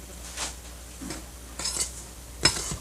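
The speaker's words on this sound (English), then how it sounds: "We mix the dry ingredients." A spoon scrapes and clinks against a bowl as dry pizza dough ingredients, including brown sugar and salt, are mixed, a few short separate strokes at close range with small taps between them.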